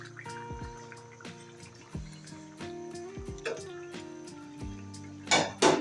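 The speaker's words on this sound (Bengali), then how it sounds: "একটা ঢাকনা দিয়ে ঢেকে দিচ্ছি" A lid goes onto a simmering pot of loti (taro stolon) curry with shrimp in a home kitchen, landing with a few close metallic clanks and knocks, followed by a sharp rattle near the end.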